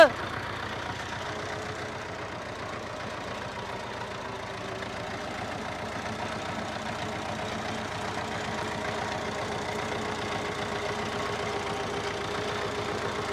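A tractor engine idles with a steady low rumble and knock, unchanging and close throughout.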